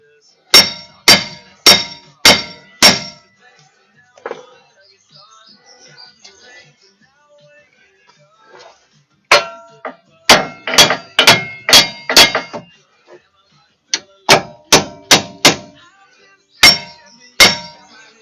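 Sharp metallic hammer strikes drive old bolts out of the front wheel hub of a 2003 Silverado, heard in quick bursts of four to six blows separated by quiet pauses and faint shop noise.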